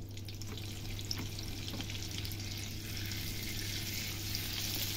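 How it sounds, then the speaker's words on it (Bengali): Butter melts in white oil in a pan on a gas stove, making a continuous soft frying hiss over a low steady hum, with no voices. "সাদা তেলের সাথে দিয়ে দিচ্ছি আমি বাটার।"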